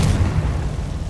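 Confringo fire blast spell from Hogwarts Legacy bursting with a loud, close low-end boom that holds as a dense rumble for about a second.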